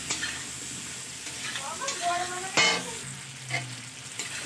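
Fried potatoes stirred and tossed with spices in a pan, a steady sizzle broken by a few scraping clatters of the spatula, close by and alone.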